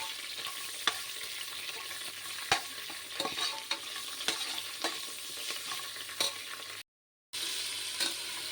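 Ginger garlic paste fries in a pan for vegetable biryani, giving a soft, even sizzle with intermittent light taps of a spoon, interrupted by a brief cut to silence near the end.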